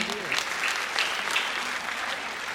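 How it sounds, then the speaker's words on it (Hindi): Audience applause at a live poetry stage program during a festival, steady broadband clapping for the full few seconds with a couple of louder swells, fairly close, no talk over it. "एक बार जोरदार तालियां उनके लिए बजाएं।"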